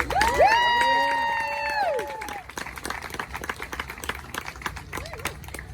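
An audience applauds a speaker at a political gathering, a bright whooping voice rising over the start before the clapping carries on in a scattered, loud patter of many hands.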